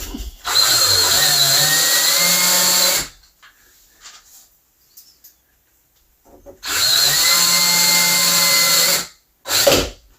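A power drill drives screws into a door during a mudroom remodel. Two long whirring bursts ramp up in pitch, separated by a quiet pause, and a short final burst follows. The drill is close and loud.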